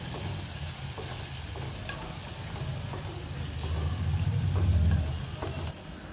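Spices including Maggi masala, turmeric and onion-garlic masala stirred in a sizzling pan, a continuous close frying hiss with scraping strokes that swell louder near the end, no speech.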